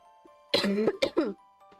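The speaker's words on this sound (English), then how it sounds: "I am coughing way too much, man." A person coughs hard three times in quick succession, close and loud, with a faint steady tone in the background.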